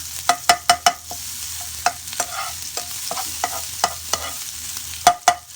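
Garlic and coriander root sizzle and stir-fry in a hot pan, with sharp scraping clacks of a utensil in quick bursts over a steady frying hiss.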